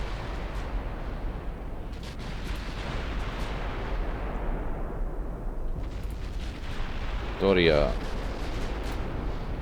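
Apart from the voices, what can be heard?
naval secondary guns firing in Ultimate Admiral Dreadnoughts video game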